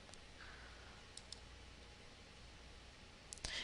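Computer mouse clicking while working in PowerPoint: a few sparse, sharp clicks, faint and close, spread over a steady low background hiss with no voices.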